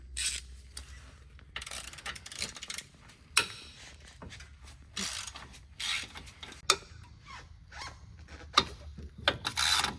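A ratchet loosens 17mm bolts on a 4th-generation Subaru Outback's front hub, with bursts of quick clicking and metallic handling noises separated by pauses, close and fairly quiet, with no voices.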